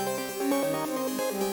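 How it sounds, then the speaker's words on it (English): The Hive synth preset Arp Big Mouth plays a quick, pulsing arpeggiated melody, with rhythmic note stabs repeating in a steady pattern, loud and alone. "I laid down this same pattern into Hive, and I used a preset called Arp Big Mouth"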